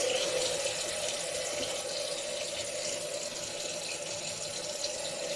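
A tap runs steadily into a sink, close and continuous, as water is used to wet the face before shaving.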